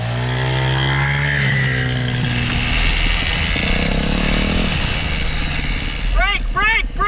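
Dirt bike engine droning steadily on a ride in Central Oregon, loud and close with shifting pitch as it revs and settles, while a voice and bird-like chirps come through near the end.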